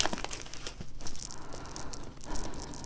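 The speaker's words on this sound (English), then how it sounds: "I'm just going to snip an end off" Scissors snipping open a plastic bag of floor-swept soil indoors, with dense crinkling and crackling of the plastic, close and fairly quiet, continuous over a few seconds.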